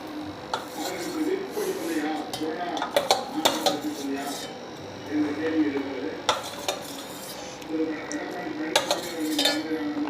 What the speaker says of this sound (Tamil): இதை வந்து நம்ம நல்லா கிண்டி விட்டுக்கலாம்